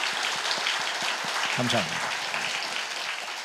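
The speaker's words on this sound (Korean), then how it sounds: "이분들에게 큰 박수와 격려로 축복하겠습니다." A church congregation at a Korean ordination thanksgiving service applauds in a dense, steady wash of clapping while a voice speaks briefly over it.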